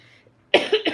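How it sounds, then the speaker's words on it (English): A single person lets out a short, sharp cough close to the microphone, in two or three quick bursts after a moment of near silence. "Still got a bit of a cough."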